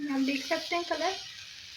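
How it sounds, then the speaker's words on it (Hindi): Eggplant slices frying in a pan for a masala fry baingan dish, a steady hiss of sizzling oil running throughout beneath a voice talking over the first part. "देखिए इनको जो है ना ये फ्राई कर रहे हैं"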